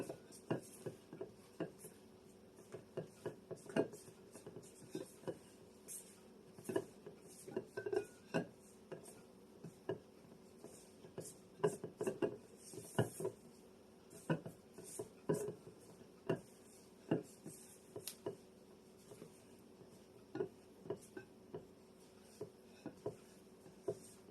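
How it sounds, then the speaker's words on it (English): Biscuit dough being stirred by hand in a bowl, giving a quiet, irregular run of light clinks and taps from the spoon against the bowl over a soft background. "Just hand stir it in."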